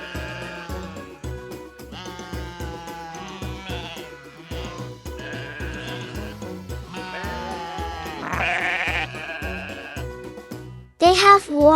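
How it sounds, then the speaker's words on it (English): Farm sheep give repeated bleats, with a strong wavering call near the end standing out over steady background music. "This is the sheep."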